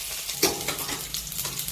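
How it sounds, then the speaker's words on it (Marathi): Garlic fries in two spoons of hot oil with mustard seeds and cumin, a soft steady sizzle broken by a few sharp crackles and stirring scrapes, close by with no talk. "लसूण छान परतला गेलेला आहे"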